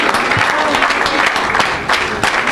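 An audience at a church evangelism event claps loudly and steadily throughout, a dense, close wash of applause with faint cheering mixed in.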